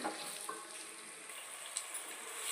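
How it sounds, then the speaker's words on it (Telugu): Prawns being stirred and fried with biryani masala in a pan, a steady close sizzle with faint scraping of the spoon, continuous and fairly quiet. "ఇప్పుడు కలుపుకుందాం బాగానే ఏగనివ్వాలి"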